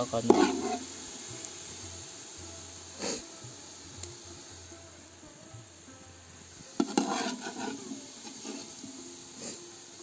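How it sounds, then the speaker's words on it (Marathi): Sliced onions fry in oil for a chicken biryani, browning toward orange with a steady low sizzle, interrupted a few times by louder stirring scrapes and clatter against the pan. "ह्यो कांदो आता आपण काळो करून घेऊया म्हणजे थोडं ऑरेंज टाईप करून घेऊया"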